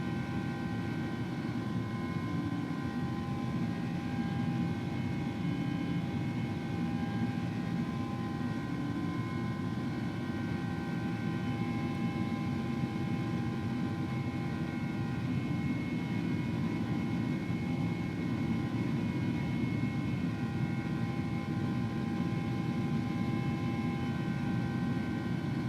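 An Airbus A300 climbing in a flight simulator game, its engines producing a steady, droning roar with sustained humming tones that stays constant and loud for the whole stretch, without any talking.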